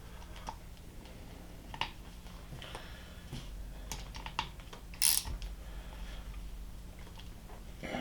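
Bolts are tightened on a South Bend lathe under restoration with a hand ratchet, giving faint, close, scattered clicks and light metallic taps in a quiet room, one sharper clack near the middle.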